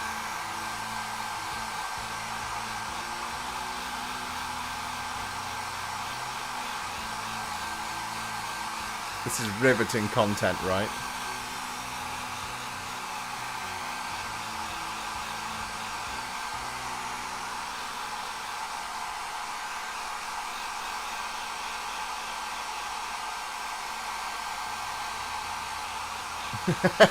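A hair dryer runs continuously at close range, a steady, even rushing hum across the whole stretch, with a voice speaking briefly over it midway.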